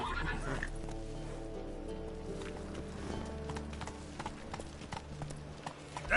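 Roach, Geralt's horse in the fantasy game The Witcher 3, gallops and whinnies, with steady rhythmic hoofbeats over a musical score, a neigh near the start, and a voice briefly at the end.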